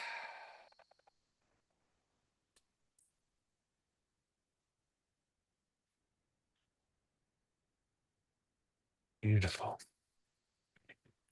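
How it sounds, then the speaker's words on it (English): A deep breath released together in a quiet room: near silence, a short faint sound at the start, then one clear, close exhale that stands out alone. "I'd love for us to all take a nice deep breath together"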